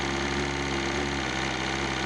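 A cold motorcycle engine revs slowly and steadily upward toward about 5,500 rpm, giving a continuous close, loud hum with no break.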